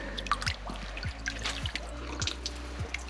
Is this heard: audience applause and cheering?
no